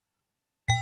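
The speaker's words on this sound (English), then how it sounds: "transform the sound from like tapping sound into this bell-like sound" A modular synthesizer resonator module excites a ringing, bell-like tone from a single tap, starting abruptly after silence and sustaining with clear overtones as it slowly decays.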